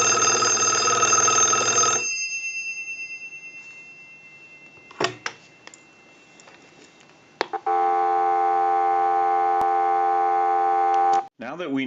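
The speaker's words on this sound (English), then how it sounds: "we'll give you some dial tone" A Stromberg Carlson 1212 rotary desk telephone finishes a ring burst, then a few clicks follow, and after them a steady, continuous dial tone holds for several seconds before cutting off.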